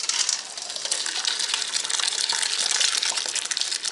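Hot muscadine juice poured through a strainer set in a colander, a loud, close, steady gushing splash of liquid that runs without a break.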